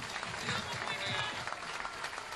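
Applause from a crowd at a Frente Amplio political rally in Las Piedras, Canelones, a dense steady wash of many hands clapping throughout, with voices mixed into the crowd noise.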